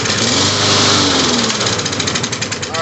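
Craftsman M230 lawn mower engine firing briefly on brake cleaner sprayed past the carburetor, a loud close rapid popping roar that sputters unevenly and fades as it dies out.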